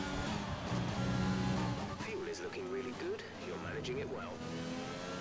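A race car engine in F1 2020 hums and whines steadily through gear changes, a continuous mid-volume drone under someone talking over it.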